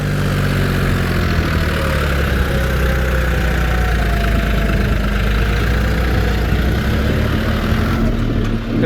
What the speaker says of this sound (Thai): เป็นรถไถ